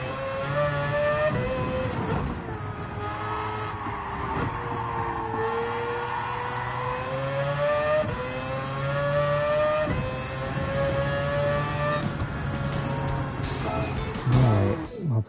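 Race car engine in Gran Turismo 7 revving up through gears, a sustained loud whine rising and shifting repeatedly over fifteen seconds, with faint tire noise and a brief voice near the end.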